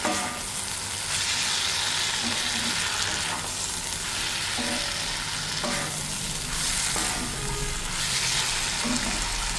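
Shrimp and taro stolons sizzle steadily in a hot pan, with a constant loud frying hiss and periodic scraping stir strokes every couple of seconds, close up and without talk.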